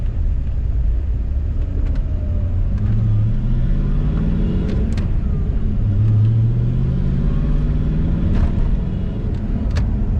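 Several cars pull away from an early-morning car show on Jackson Street, engines rumbling steadily and revving as they drive off, with a continuous loud low drone throughout.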